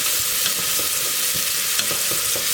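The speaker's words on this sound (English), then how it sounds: "So I want to saute that for a good sort of 5 to 10 minutes at a medium heat." Aromatics sautéing over medium heat in a pan as the base for a pasta tomato sauce, a loud dense continuous sizzle with soft stirring knocks underneath, close up and no talking.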